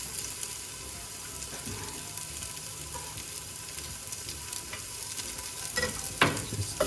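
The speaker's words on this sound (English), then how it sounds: "just gently mix them up" Ginger is gently stirred into chicken curry frying in a pot, a steady close sizzle with soft scraping strokes and a couple of sharper clinks toward the end.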